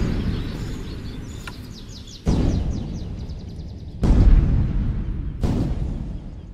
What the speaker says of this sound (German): Im benachbarten Steinbruch wird gesprengt.